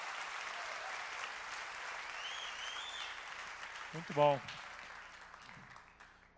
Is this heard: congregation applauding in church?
yes